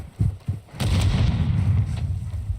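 A frag grenade goes off in a first-person shooter video game, two short thumps and then a heavy, loud boom that rumbles and rolls on for about two seconds.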